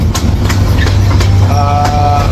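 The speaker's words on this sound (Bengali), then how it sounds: "ট্রেন ডাউন লাইন দিয়ে চলতেছে" A loud, steady train rumble with rhythmic clacks of wheels on rails, heard from on board a passenger express train.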